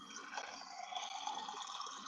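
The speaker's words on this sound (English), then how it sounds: "the water sound is because it comes out too damn hot" Tap water runs in a steady, faint rushing stream, added to cool down water that comes out too hot, heard alone at a low level throughout.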